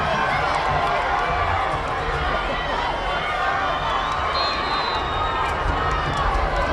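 Home crowd at a high school football game between Woods Cross and the hosts, a dense, continuous roar and murmur filling the stands, with a commentator talking over it throughout.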